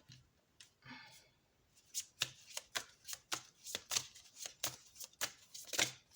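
Oracle cards being shuffled by hand in quick, close riffling bursts that settle into a steady rhythmic flutter, with no talking over them.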